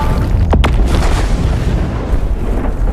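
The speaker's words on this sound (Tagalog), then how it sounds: "Agad namang nag-utos si Philip na paputukan ito" A tank cannon fires in a war film, a loud, sharp blast that rolls into a heavy, lingering rumble and stays booming under the scene.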